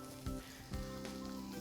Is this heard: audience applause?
no